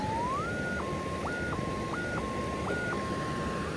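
A metal detector sounds on a buried target while hunting for placer gold by a California river, a steady tone broken by several loud stepped warbling pulses, with no talk.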